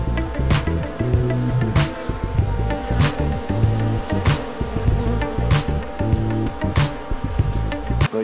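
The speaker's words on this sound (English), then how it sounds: "let's go take a look at our new bees" Honeybees buzz steadily around a hive, a dense droning hum up close, with soft periodic ticks repeating in the background.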